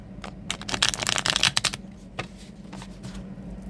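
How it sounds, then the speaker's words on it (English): A deck of oracle cards is split and riffle-shuffled close up, a fast flurry of crisp flapping and snapping, followed by a few softer taps as the cards settle. "When I split the deck."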